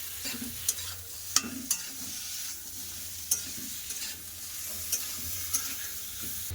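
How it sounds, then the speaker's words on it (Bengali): Onion paste and red chili powder frying with spices for a Bengali rohu fish curry, a soft continuous sizzle broken by sharp spoon scrapes and clicks against the pan at irregular intervals, close and alone without voices. "এবার খুব ভালো করে আবার মশলার সাথে ভালো করে ভেজে নেবো"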